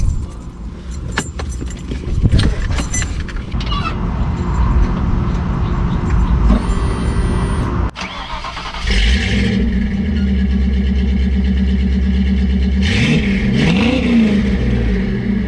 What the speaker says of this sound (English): you're about to hear this exhaust